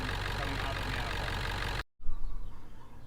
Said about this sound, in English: it was a little bit loud while the engine was running